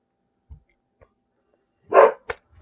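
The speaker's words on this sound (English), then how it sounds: "This dog is driving me nuts tonight." A dog barks at night: one loud, close bark follows a couple of faint soft sounds, then a shorter second bark comes quickly after, with quiet between.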